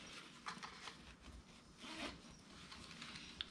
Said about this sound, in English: Got this little zipper here.